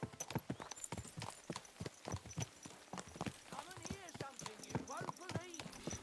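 Rhythmic clip-clop of horse hooves on a hard surface in the video game Kingdom Come: Deliverance 2, steady and close, with a brief whinny and some voices mixed in.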